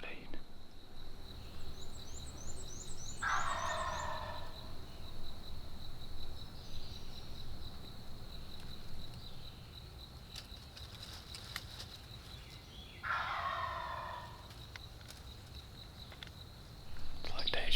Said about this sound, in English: Can you believe the freaking turkey is gobbling again?